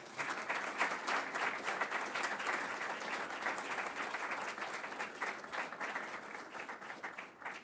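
An audience at a talk on the economic crisis and getting back to growth gives steady applause to welcome Ambassador Szapáry. The clapping is dense and sustained throughout, with no voices over it, and it eases off slightly near the end.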